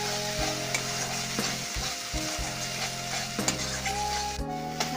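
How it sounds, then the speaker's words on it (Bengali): Spice paste with chilli powder and green chillies sizzles steadily in a pan while a spatula scrapes and clacks against the metal in uneven strokes; no one speaks. "ভালো করে মশলাটাকে কষিয়ে নিতে হবে।"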